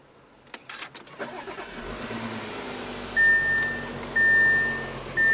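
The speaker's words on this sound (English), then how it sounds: "what you're hearing there is a 3-liter turbo diesel V6" A 2016 Audi A6 3.0-litre turbo diesel V6 cranks briefly on push-button start, settling into a low steady idle, with a couple of high electronic chimes sounding over it.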